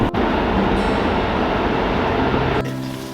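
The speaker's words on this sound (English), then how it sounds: "train coming." A train rumbles past near a home garden, a loud steady roar with rolling rail noise that holds for a few seconds before easing off, with no talk over it.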